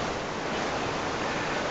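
A waterfall in the Roblox video game, giving a steady, dense broadband rush of falling water that stays even and continuous, loud and close, with no voices over it.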